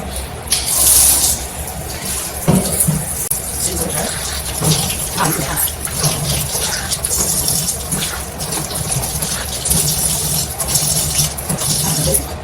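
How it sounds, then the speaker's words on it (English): Running tap water splashing as it is used to wash a face, a steady close spraying rush with shifting gushes and handling sounds throughout. "So I am going to use this running water here to clean my face"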